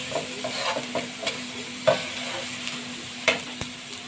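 Garlic and onion fry in margarine with a little oil, turning golden brown for garlic butter shrimp. A soft, constant sizzle runs throughout, broken by a few sharp taps and scrapes of a utensil.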